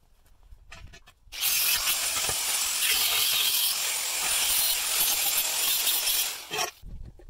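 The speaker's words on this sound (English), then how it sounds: "I'm hacking this plate off the bottom of the gin pole" A hacksaw cuts a metal plate off the bottom of a wind turbine gin pole, a loud, harsh, continuous rasping that starts abruptly after a few taps and runs for about five seconds before stopping, close by.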